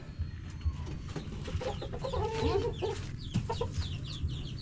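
Hens and roosters among a brood of chicks cluck and call close by, with irregular squawks and chirps layered over faint background noise.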